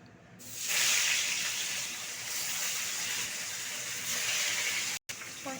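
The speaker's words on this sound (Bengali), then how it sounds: "তেলটা গরম আছে এই তেলে আমি মাছটাকে ভেজে নেব" Fish frying in hot mustard oil gives a strong, steady sizzle that swells early and holds at close range, with a brief break near the end.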